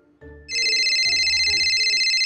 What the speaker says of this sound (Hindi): ये लो आ गया उसका फोन